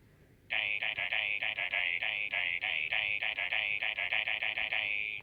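Jellybilly's part from My Singing Monsters Composer, built as Boscus: bright, high tonal notes repeat in quick rhythmic pulses. The pattern holds steady and loud with no talking over it.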